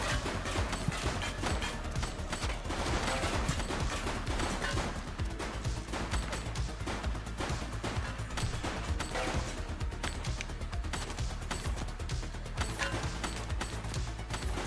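Dense, continuous gunfire crackles throughout a firefight in the police video game The Precinct, a steady rapid stream of shots at moderate distance with no clear pauses.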